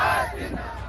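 A large crowd of thousands gathered under a pandal at a minister's rally in Suwasra, Mandsaur, Madhya Pradesh, making a dense roar of many voices that starts loud and then settles into a steady crowd murmur.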